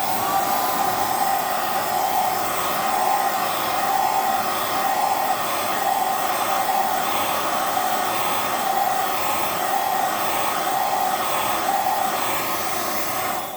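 Hair dryer blowing steadily on low heat over an action figure's joints, a constant close whooshing whine that holds unchanged throughout with no talk.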